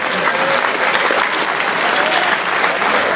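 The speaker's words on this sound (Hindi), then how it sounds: "एक बार जोरदार तालियों से बधाई दें अरुण जैमिनी जी को।" Strong, sustained audience applause at a Hindi poetry recital (kavi sammelan), loud and even throughout with a faint murmur of voices in the crowd.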